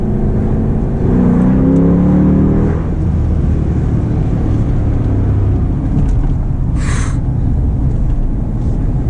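A custom Jeep Grand Cherokee Limited accelerates hard, its engine revving loud and close with a rising growl early on, then a sustained roar. A brief high whine comes near the end.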